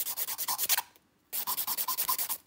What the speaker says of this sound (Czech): tam, kde jsou hrbolky, tak je odpiluju.